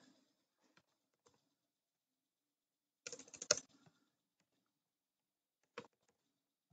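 Sparse keystrokes on a computer keyboard: a few faint isolated taps, then a quick burst of clustered typing midway and one last short cluster, each standing alone against near silence.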